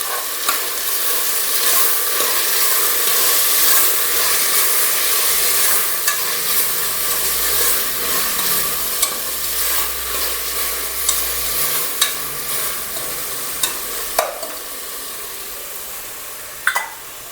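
Rajma pulao with turmeric and salt frying in a pan while a spoon stirs it, a continuous loud sizzle broken by scraping strokes and a few sharp clicks of the utensil against the pan near the end.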